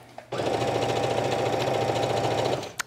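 A sewing machine stitches stretch fabric for yoga pants in one continuous fast whirring run close by, starting abruptly after a short pause and stopping near the end.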